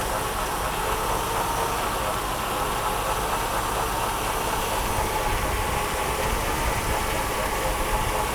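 A Mercedes W126 300SEL engine idles at about 700 rpm after fuel distributor repair, a steady, even rumble with slight vibration that holds close and loud throughout.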